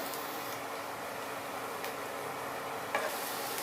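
Two dried red chillies and two bay leaves go into hot oil for Bengali pea ghugni, producing a faint, even sizzle with a soft tick or two.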